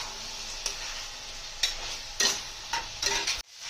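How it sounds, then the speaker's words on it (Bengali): Boiled kabuli chickpeas are stirred into fried onions and oil in a pan, with a steady close sizzle and several distinct spatula scrapes against the metal, ending abruptly, with no talking. "এই যে দেখো আমাদের পেঁয়াজ ভাজা হয়ে গেছে, তেলটাও ছাড়া ছাড়া হয়ে গেছে। এবার ছোলাগুলো দিয়ে দেবো,"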